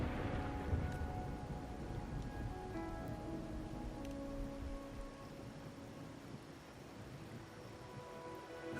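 Steady rain falls in the video game Wuthering Waves, a dense continuous hiss of drops on surfaces that holds at an even level throughout, with no voices over it.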